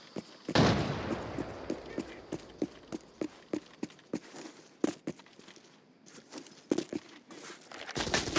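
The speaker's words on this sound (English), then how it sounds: "I heard footsteps" Footsteps in the game Arena Breakout: Infinite at the Forbidden Airport map, a steady series of close, sharp steps roughly every third of a second, with a few louder impacts mixed in.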